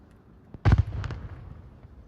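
Single gunshot in the Onward VR tactical shooter during a competitive match, one sharp close report followed by a short echoing tail and a couple of fainter pops.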